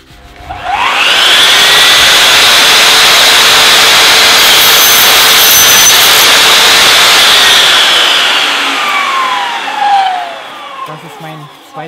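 A powered saw, likely a mitre saw, cuts a ceiling molding strip: a loud whining motor spins up, screams steadily through the cut for several seconds, then winds down at the end.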